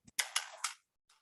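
A time-stretched snare drum hit in Ableton Live: three sharp, noisy bursts close together with a smeared, hissy residue trailing between them. A faint tick comes just before, and a soft noisy tail sounds alone afterward.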